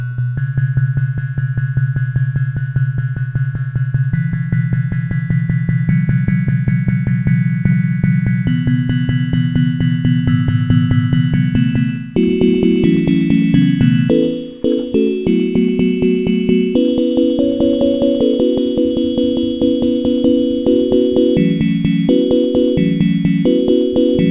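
Sustained synthesizer chords shifting every few seconds, thick and effect-laden with a chorus-like shimmer, playing loud and steady without any voices.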